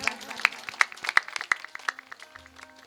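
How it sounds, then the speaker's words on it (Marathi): Audience applause at a kirtan, a scattered burst of hand claps from a modest crowd, sharp and irregular at first, then thinning and tapering off within three seconds, moderately close. "सर्वांनी एकदा महाराजांकरता जोरदार टाळ्या वाजवा"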